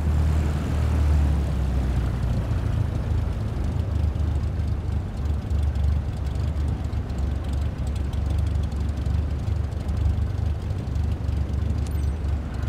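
Aircraft taxiing before takeoff in Microsoft Flight Simulator 2024, a steady low engine rumble and drone that holds evenly throughout with no voices.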